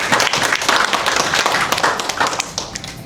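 Steady applause from staff at a company Christmas family gathering in a Sibu hotel, dense overlapping claps that fill the room with little talk.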